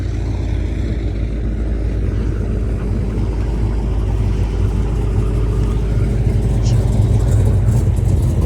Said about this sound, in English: 6-pack challenge, that's a 6-pack Challenger.